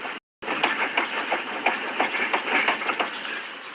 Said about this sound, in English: here's your front end making noise